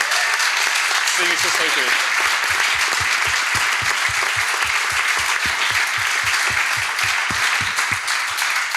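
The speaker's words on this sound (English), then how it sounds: "let's have another round of applause for the whole panel" A conference audience at a Scala programming panel gives a long, loud round of applause, dense continuous clapping with a steady pulse of rhythmic claps underneath, and someone briefly speaks near the start.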